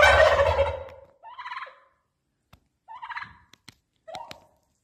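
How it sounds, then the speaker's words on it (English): A strutting male turkey gobbles in several short, loud, rippling bursts close by, separated by pauses and a few faint knocks, after a voice at the start. "Gobble, gobble, gobble, gobble."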